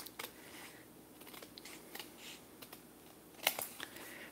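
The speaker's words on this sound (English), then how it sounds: "This is how you cut tarot cards." A tarot deck is cut and handled close by, with soft card flicks and shuffling scrapes and one crisper snap near the end, all fairly quiet.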